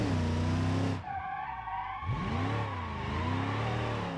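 A Gavril Roamer in the BeamNG driving game skids, its engine straining with a wavering, tonal whine and tyre noise that briefly drops away before surging back.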